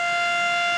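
Civil-defence blackout siren at a sugar mill in Nawanshahr, a loud, steady wail heard from close range, alone and unbroken for the whole moment.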